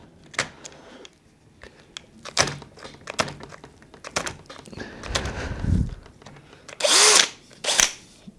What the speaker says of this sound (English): Now I put it in drill mode, so it's going to apply the maximum torque that is capable.